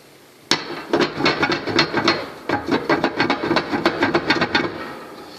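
Rapid metallic clicking and rattling in uneven bursts, close up, as a socket wrench is worked back and forth on a stuck bolt of a DS Stove EnergyMax Extreme 160; no talking.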